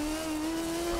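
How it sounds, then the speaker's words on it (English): A quad-rotor rotary engine in a drift car video game holds a steady high rev, a smooth continuous buzzing drone without turbo whistle. It is loud and close throughout, and no one speaks. "the smoothness of the revving and the lack of turbo lag is, I think, more my style"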